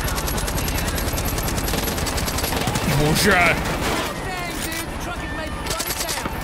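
Large-calibre gunfire rattles in the video game Far Cry 5, a rapid sustained burst of loud shots that runs through most of the clip, with a short exclamation from a player over it.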